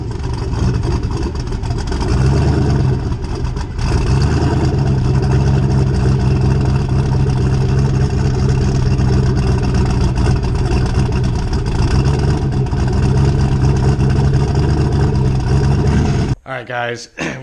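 A Ford Mustang drag car sits loud and close on its two-step launch limiter, a steady rough roar for about sixteen seconds before cutting off abruptly into scattered handling noise.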